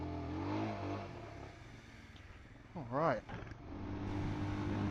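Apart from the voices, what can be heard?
Royal Enfield Scram 411 motorcycle engine revving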